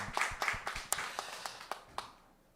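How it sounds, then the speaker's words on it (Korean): A church congregation at a Sunday service claps in a loose, scattered rhythm of separate sharp hand claps that thin out and fade to quiet, fairly soft and somewhat distant. "우리에게 크고 위대한 일을 행하신 하나님께 무한 감사와 영광의 박수 먼저 올려드리겠습니다."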